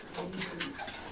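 Pigeons cooing close by, soft throaty repeated coos over about a second, with no talk.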